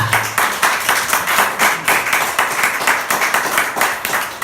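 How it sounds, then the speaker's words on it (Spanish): A church congregation claps together during a sermon and baptism service, a loud rhythmic round of many hands with pulsing beats running continuously, with a faint tone briefly underneath at the start. "Denle un aplauso a Jesucristo."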